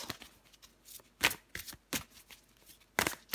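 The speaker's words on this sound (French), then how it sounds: "Allez, je prends encore une carte pour vous." Tarot cards being shuffled and drawn by hand: several crisp, rapid riffling bursts and slaps at irregular intervals, close and clear, with no talk.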